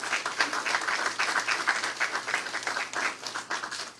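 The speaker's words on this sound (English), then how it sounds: "I want to ask you to give yourself a round of applause for being here." A seminar audience claps together in a sustained round of applause, dense and even throughout with no voices standing out.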